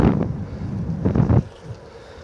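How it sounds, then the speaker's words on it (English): Wind buffets the microphone of a cyclist riding into a headwind on a road, a steady low roar that surges in gusts and then drops away near the end. "I'm going into the wind a bit,"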